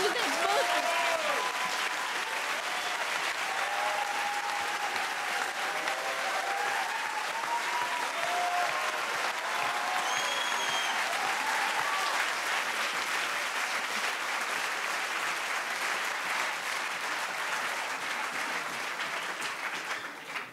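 An audience at the final of a French eloquence contest claps warmly and steadily, a dense sustained round of applause that holds for about twenty seconds before tapering slightly at the end.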